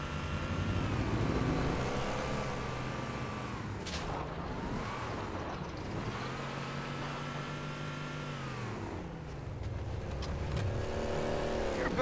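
The Warthog vehicle in Halo 3 drives with a steady engine drone that rises and falls in pitch as it moves, plus occasional sharp bangs and battle noise mixed in.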